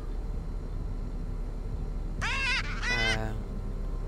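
Squawking bird in the horror game Ultimate Custom Night: two short, bright, harmonic calls in quick succession, close and loud over a steady low background hum, with no talking.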